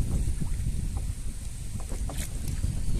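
Gusty wind buffets the microphone on the Madeira River during kayak fishing, a continuous low roar with water sloshing faintly underneath.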